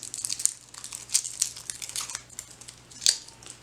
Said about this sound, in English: give them a quick crush with your knife. After that, the skin should peel right off.